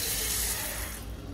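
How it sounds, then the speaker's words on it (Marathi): Water pours into a pot in a brief rushing splash that tapers off after about a second. "पाणी डाल रे"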